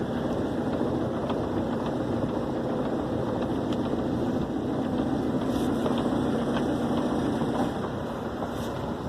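A boat engine idles steadily near a mooring, a constant close mechanical drone with a faint rhythmic knock, running unbroken and alone for the whole stretch.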